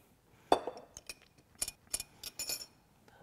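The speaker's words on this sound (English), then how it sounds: "to that I'm going to add some of this delicious classic pesto" Soft clinks and scrapes of a utensil against a bowl as classic pesto goes into crème fraîche, a handful of quiet, separate taps and knocks spread out over a few seconds.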